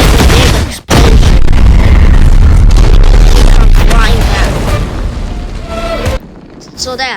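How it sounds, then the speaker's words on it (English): Big explosion in the Roblox fighting game The Strongest Battlegrounds: a loud, sustained booming blast with heavy low rumble that fills several seconds after a brief gap, then fades into softer crackling debris. "and then you get the big explosion"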